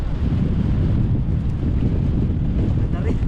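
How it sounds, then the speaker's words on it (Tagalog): Strong wind buffets the microphone out on the water near a boat, a loud, continuous rushing roar with gusty surges and no clear talk. "Sobrang lakas pa ng hangin."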